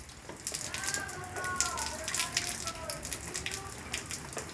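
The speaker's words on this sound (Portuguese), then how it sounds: "Chuva em Campina Grande" Steady rain falls on a night in Campina Grande, a dense continuous hiss with patter on surfaces and some faint chirping calls threading through it, fairly loud and with no voices.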